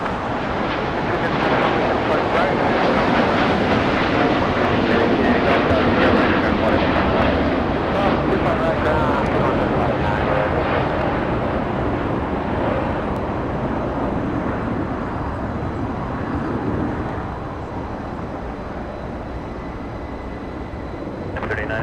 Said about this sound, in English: Dreamliner doing a left bank on the coastline